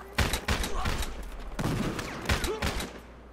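Rapid bursts of gunfire in the multiplayer shooter game Battlefield Hardline, several loud, sharp overlapping shots in quick succession with no talking.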